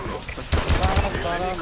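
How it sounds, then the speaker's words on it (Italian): An M1 rifle fires from the hip in a video game, with a quick burst of about four sharp shots in the middle of the clip. A voice talks over the burst. "Bellissimo quando spari in hipfire, è stupenda."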